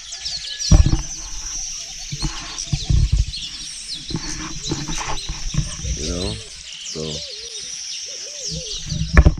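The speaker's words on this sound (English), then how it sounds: "There's a lot of birds over here." Birds coo and chirp nearby in the Gambian countryside in the morning, several calls overlapping, while a person talks briefly over them.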